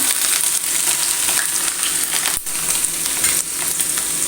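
Garlic and ginger sizzle loudly as they hit hot oil in a frying pan for a beetroot and date pickle, a steady crackling hiss with stirring scrapes throughout, no voices.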